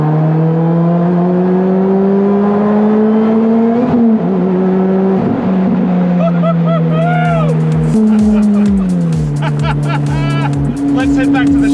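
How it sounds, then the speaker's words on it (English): A supercharged car engine roars loudly in a large tunnel, its pitch climbing through the gears with a whining supercharger on top; the sound is boomy and echoing, with occasional voices. "Oh, I can hear the supercharger."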